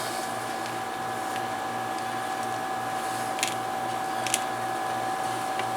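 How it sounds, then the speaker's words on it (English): An air conditioner runs in a room, giving a steady, even hum with a constant mechanical whine throughout, and no one speaks. "My apologies for the air conditioner."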